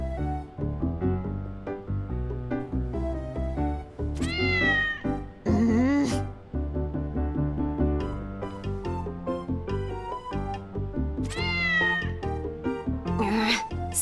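Two or three distinct rising cat meows sound in the video game Shadowverse, set against busy, rhythmic background music that plays throughout.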